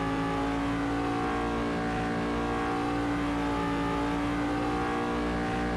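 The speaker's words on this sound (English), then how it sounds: "We are bumping up against the rev limiter at the end of this straight." A Cadillac DPi prototype race car in Assetto Corsa screams at high revs against its rev limiter on a straight, a loud, continuous buzzing engine note with no talking.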